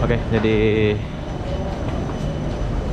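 An MRT train at Paya Lebar station in Singapore, a loud steady rumble of rail cars with a brief tonal whine near the start, heard under a nearby speaking voice.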